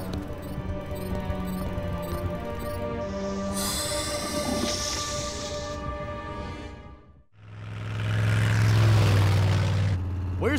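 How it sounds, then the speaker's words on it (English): A cartoon train rumbles past nearby with rattling wheels and high squealing tones, briefly dipping before a louder, deep engine drone returns. "The train is past."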